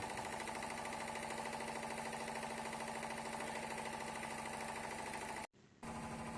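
A diesel engine idling on a lab test bench during a practical, a steady loud rhythmic knocking drone that cuts out briefly near the end and then resumes, with no voices.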